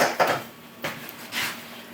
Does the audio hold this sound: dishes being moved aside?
yes